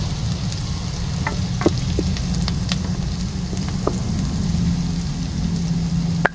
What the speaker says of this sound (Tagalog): ilagay na natin yung ating onion, ating igigisa